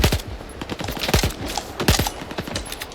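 An enemy fires a shotgun in the video game Stalker 2, a rapid series of sharp, loud blasts in quick irregular bursts, close and punchy, with no talk over it.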